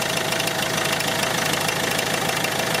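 Citroën Xsara Picasso engine idling steadily with a dense mechanical knocking rumble, close and loud throughout, no voices over it.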